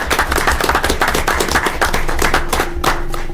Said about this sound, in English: just a quick round of applause for him and the work